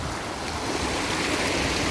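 Water rushes down a cold mountain stream, a dense, constant roar close by with a faint breath of wind mixed in and no voices.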